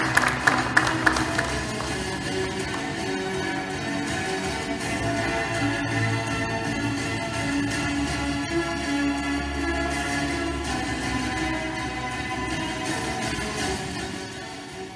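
An audience at a 2015 science awards ceremony applauds a newly honoured associate professor, a dense, steady wash of clapping lasting about fifteen seconds with a faint tonal background, tapering slightly at the end.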